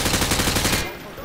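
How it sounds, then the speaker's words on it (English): Rapid automatic weapon fire from the hip at range targets in Call of Duty Modern Warfare 2, a loud continuous burst of shots for about a second that cuts off abruptly and leaves a fading echo. "Grab that weapon off the table and fire at the targets behind you."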